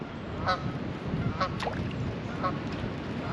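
Geese honk in short nasal calls over a steady background of wind and water, disturbed from their nest on a small island during kayak fishing, a few scattered honks at moderate distance.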